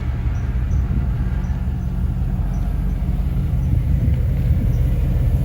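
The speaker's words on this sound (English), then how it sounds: "The exhaust is quiet. I put some quiet mufflers on here." A 1953 Chevrolet Bel Air fitted with quiet mufflers idles with a steady, deep, low exhaust rumble, even and continuous from nearby, with no voices.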